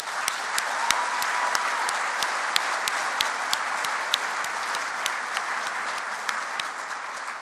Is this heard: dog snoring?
no